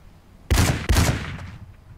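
Two loud, close gunshots from the survival video game Rust in quick succession, under half a second apart, each booming with a deep low thump and a rolling decay.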